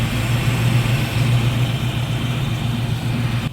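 A car engine that has just been switched from EFI to a different fuel setup idles smoothly and steadily up close, a low even rumble with no revving.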